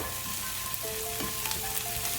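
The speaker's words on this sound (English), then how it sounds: "we are going to add in our chopped or minced garlic." Chopped garlic sizzles in a hot pan over previously softened onion, a dense, steady crackling hiss heard up close with a few brighter pops and thin tonal whines, continuing without a break and with no voices.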